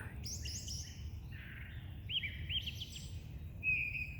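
Several birds chirp and call back and forth in short bursts from the top of a tree in a yard, bright and fairly close, over a soft low background hum.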